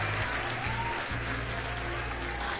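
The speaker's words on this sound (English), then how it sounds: "Can we get a round of applause?" A round of applause, with dense, steady clapping from a group at even loudness for a few seconds and no voices over it.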